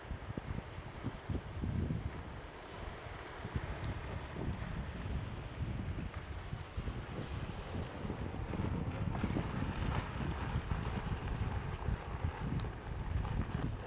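Waves wash against the rocks along the shore at Barfleur in a continuous rough surge, partly buried under heavy wind buffeting on the microphone, with no voices.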